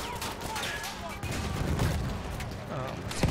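Battlefield 1 combat with grenades and tanks: a dense, continuous wash of explosions and gunfire fills the clip, booming low rumbles under crackling fire, with a sharp blast near the end and a voice mixed in.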